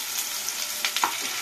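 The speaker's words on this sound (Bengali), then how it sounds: "আলুগুলো দিয়ে একটু লাল লাল করে ভেজে নেব।" Potato pieces sizzle steadily in hot oil, with a continuous crackling hiss and a few louder spits and stirring scrapes near the end, close and moderately loud with no voices.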